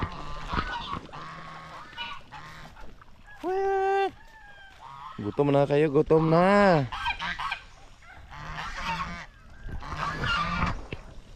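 Several loud, drawn-out honking calls from ducks on a farm, coming in separate bursts close by, with people talking intermittently between them.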